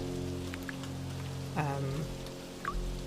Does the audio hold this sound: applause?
no